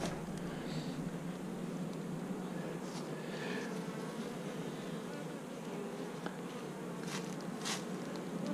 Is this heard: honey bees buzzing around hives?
yes